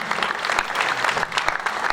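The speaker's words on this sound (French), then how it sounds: "Applaudissez-vous" Rotary dinner guests clapping together in a room, a steady, dense patter of many hands lasting the whole moment with faint voices underneath.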